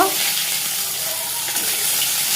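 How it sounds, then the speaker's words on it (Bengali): Pakal fish frying in hot oil, a loud, dense, continuous hiss of sizzling close up with no break. "আমি আজ প্যাকাল মাছ ভাজছি, তোমরা দেখতে পাচ্ছ।"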